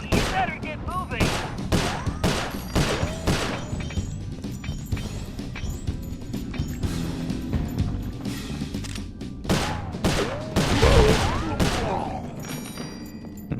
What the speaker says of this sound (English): Got him with the explosion.